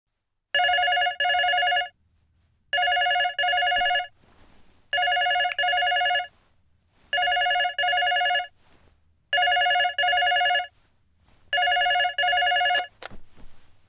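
A telephone ringing in a Telugu romantic thriller scene, six evenly spaced double-burst rings, clear and fairly close, alone with no talk over them.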